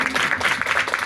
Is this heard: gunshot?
no